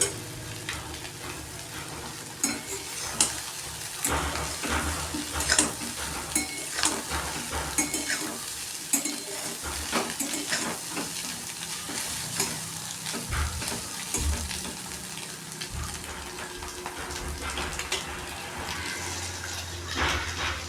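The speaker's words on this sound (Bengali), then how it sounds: "যাতে এই ডিমটা কাঁচা না থাকে ওরকম করে ভালো করে নাড়িয়ে নাড়িয়ে ভালো করে ফ্রাই করে নেব।" Scrambled eggs stirred and fried in a pan for egg bhurji, a steady sizzle with frequent scraping and stirring strokes throughout, close and fairly loud, with no talking.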